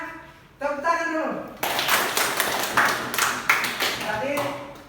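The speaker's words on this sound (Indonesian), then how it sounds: "Oke anak-anak, tepuk tangan dulu." A group of children in a classroom claps in scattered bursts of handclaps mixed with chatter and an adult voice. The sound is close and moderately loud.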